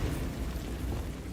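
Bombarda spell explosion in Hogwarts Legacy, a deep booming blast that rumbles continuously and loudly through the short moment, with no talk over it.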